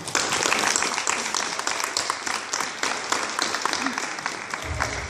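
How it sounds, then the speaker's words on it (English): An audience at a sixth grade promotion ceremony applauds parents and grandparents, with sustained, fairly loud clapping that tapers slightly toward the end. "join me in a round of applause to our parents and grandparents"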